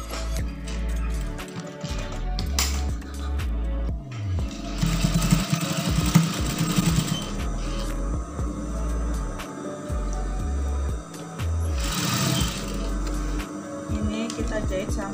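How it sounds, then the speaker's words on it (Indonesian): A sewing machine stitches a brocade dress combined with plain fabric, running in short rhythmic bursts of low mechanical whirring separated by brief pauses, with a person talking intermittently. "Kita jahit sampai ke belakang."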